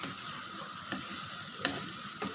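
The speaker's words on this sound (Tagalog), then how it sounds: "tingnan niyo po, oh, nagbo-boiling na siya" Egg mixture bubbling and sizzling in a pan while cooking ampalaya, a soft continuous frying hiss with a few light stirring clicks, close and fairly quiet, no talking.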